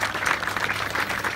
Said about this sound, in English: Let's give a big round of applause to your principal, Ken Israni